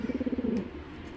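A black-necked Giribaj tournament pigeon gives a short, rhythmic burst of close, soft cooing that quickly fades into quiet background noise.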